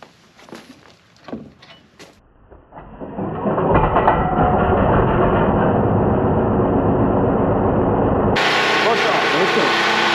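Harbor Freight Predator 4375 watt generator cranked and started, a few pulls and rattles before the engine catches and settles into a loud, steady running hum.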